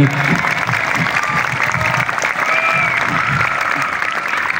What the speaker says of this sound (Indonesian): marilah kita berikan tepuk tangan kepada para santri